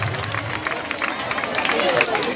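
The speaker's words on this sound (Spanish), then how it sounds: "Aplauso para cuerda de gimnasia rítmica Gadae." A crowd at a World Dance Day school show applauds rhythmic gymnastics rope performers with steady, fairly loud clapping and some cheering that swells slightly toward the end.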